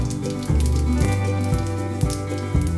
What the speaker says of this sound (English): To the heated oil add around half teaspoon of cumin seeds.